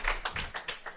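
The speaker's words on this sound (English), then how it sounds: "And the crowd goes wild." A crowd at a school board meeting applauds in short rhythmic bursts of clapping, about five quick pulses in a second, close and fairly loud with no voices on top.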